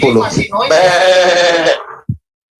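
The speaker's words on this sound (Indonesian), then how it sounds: "Ada kambing itu kambing." A goat bleats in a long, wavering, fairly loud cry right after a short burst of speech, ending in a brief low thump before silence.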